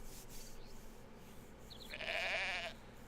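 Sheep bleat in the video game Black and White: a loud wavering bleat swells and holds for under a second over a steady low ambient bed, with a brief fainter call just before it.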